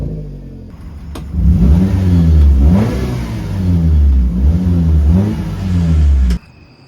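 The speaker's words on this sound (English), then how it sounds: "And the exhaust sounds good too." A car engine revs repeatedly through a throaty homemade exhaust welded with a cheap Harbor Freight welder, rising and falling in bursts, loud and close, then cuts off abruptly.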